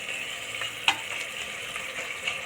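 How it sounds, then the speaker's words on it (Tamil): Ground paste for kushka sizzles and fries steadily in a hot pan, with a spoon scraping and stirring now and then, close up and without voices. "இப்போ வந்து நம்ம இதை வந்து ஒரு நிமிஷம் நல்லா வதக்கிடலாம்."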